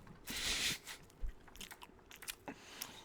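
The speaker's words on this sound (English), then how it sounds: "I'm just gonna eat over here. Next to her mic." Someone bites and chews food right next to a microphone, producing a loud crunchy bite followed by close, uneven chewing and soft crunches with no talking.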